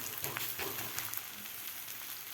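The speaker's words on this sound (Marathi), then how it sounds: "आता याला ओरकून सुद्धा आपल्याला तेल लावून घ्यायचं आहे" A green pea thalipeeth sizzles in oil on a pan, giving a constant crackling fry with small popping bursts, near and steady, with no speech.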